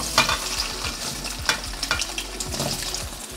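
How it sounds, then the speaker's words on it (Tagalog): Potatoes and carrots fry in a pan with a steady close sizzle, broken by scraping stirs and crisp spatters at irregular intervals, with no talking. "magprito na tayo ng patatas at carrots"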